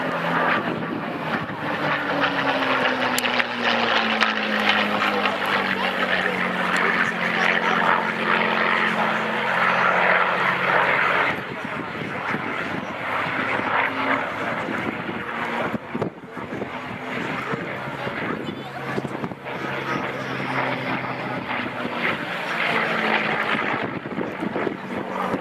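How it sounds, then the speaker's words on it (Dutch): A P-51D Mustang propeller fighter dives during an airshow display at Twente, its loud engine drone sweeping in pitch as it passes, with broadband roar and crowd-distance wash throughout. "Daarvoor moet het vliegtuig aanduiken om snelheid op te bouwen, energie op te wekken, om vervolgens een looping te kunnen maken."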